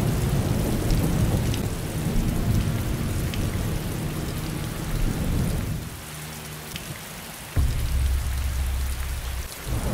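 Steady heavy rain pours down with a low rumble of thunder underneath, loud and continuous throughout, easing briefly before a sudden swell of downpour returns; no voices are heard.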